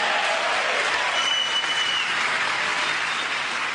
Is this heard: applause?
yes